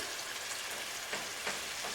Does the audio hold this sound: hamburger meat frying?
yes